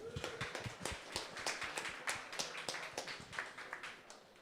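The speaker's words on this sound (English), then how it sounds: "let's actually give them a round of applause" At a Funding the Commons event, a few hands clap in quick, uneven bursts near the microphone. The round of applause is light and sparse.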